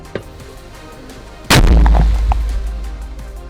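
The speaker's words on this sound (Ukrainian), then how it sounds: "Постріл!" A single heavy artillery blast booms close by after quiet, its low rumble rolling and fading for a couple of seconds.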